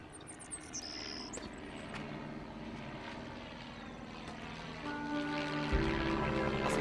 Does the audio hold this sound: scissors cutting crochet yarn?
no